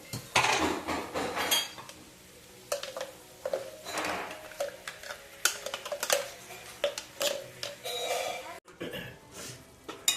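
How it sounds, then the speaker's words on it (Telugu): Onion paste is mixed into chicken in a metal pot, with uneven clinks and scrapes of a spoon against the vessel and a voice speaking between the strokes. "ఉల్లిపాయ పేస్ట్ వేసి కొంచెం కలిపేసేసి"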